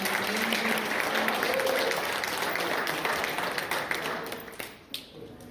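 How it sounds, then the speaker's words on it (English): Audience applause at a high school basketball awards banquet, dense steady clapping that fills the room and then tapers off near the end. "And can we give Victor Bricks a round of applause again for"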